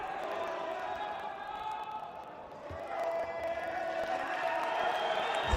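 Crowd murmuring and reacting at a Grand Slam jiu-jitsu match in Abu Dhabi, a steady mid-distance hum of voices that swells slightly louder toward the end.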